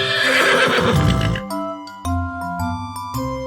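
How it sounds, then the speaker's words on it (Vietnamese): A horse gives one loud, close whinny that rises and shakes for about a second and a half, then cuts off to gentle background music. "Con ngựa."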